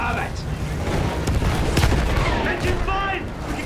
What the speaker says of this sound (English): Those field guns are shredding their outfit.